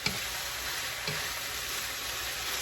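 Pork in homemade teriyaki sauce sizzles steadily in a pan, with a couple of soft stirring scrapes breaking through the constant frying hiss.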